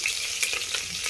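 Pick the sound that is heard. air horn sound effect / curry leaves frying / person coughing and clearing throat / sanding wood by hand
curry leaves frying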